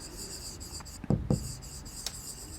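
Pen strokes on paper while a perpendicular bisector is drawn with geometry tools, heard as a few short scratchy strokes close up over a steady background hiss.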